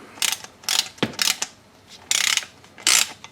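A ratchet socket wrench turns a 13mm bolt on a Mercedes with about six short, crisp bursts of clicking, close up and loud, with pauses between strokes.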